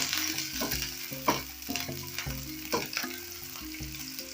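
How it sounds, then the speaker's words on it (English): Onions sauteing in hot cooking oil for a coconut fish curry, a continuous close sizzle with occasional stirring scrapes and clinks of the utensil against the pan. "Then I'm going to add in my onions, and I'll saute this till they start turning translucent."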